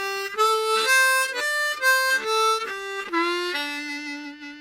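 A harmonica plays a short minor-pentatonic run of single notes, one bent, rising stepwise and ending on a sustained octave note on 6 blow, clear and close with no talking.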